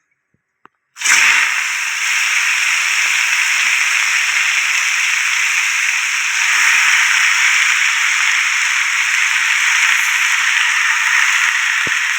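Soaked sweet potato slices drop into hot ghee with a sudden loud hiss that settles into a steady, bright sizzle of frying, close and unbroken for over ten seconds.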